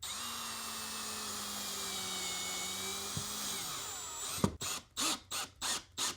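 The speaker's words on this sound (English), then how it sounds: "Get this screw, put it in there. Just like your normal drywall screw." A drywall screw is driven into a wall with a power driver, heard as a close, steady whirring whine that winds down, followed by several short, rhythmic bursts of the driver pulsing on and off.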